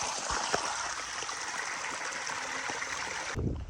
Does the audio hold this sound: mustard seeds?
no